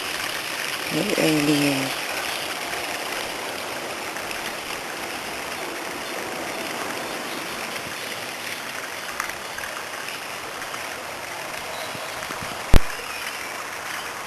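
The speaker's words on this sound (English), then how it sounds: "What a pretty little river." A pretty little river flows steadily as a broadband rushing wash beneath a bridge on the first day of spring, with a person speaking briefly near the start and a sharp knock near the end.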